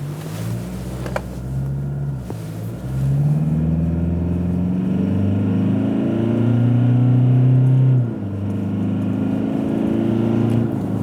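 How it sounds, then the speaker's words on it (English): A Toyota Hilux pickup engine accelerating hard in power mode, its loud, close drone climbing in pitch, briefly dropping at gear changes, then rising again. "The engine is particularly interesting to listen to always in these vehicles when you put your foot down."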